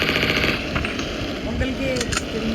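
Rapid bursts of gunfire from a weapon in the Mini Militia video game, a dense loud crackle running throughout with brief sharper pops near the end.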